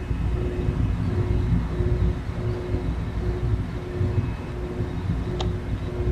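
A NJ Transit multilevel cab car train on the North Jersey Coast Line in Train Simulator 2019 rumbles along steadily, a low continuous rolling drone with a faint hum and a brief high click near the end.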